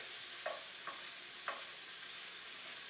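Prosciutto slices frying in a pan like bacon, a soft continuous sizzle broken by three light scraping stirs, quiet and close with no talking.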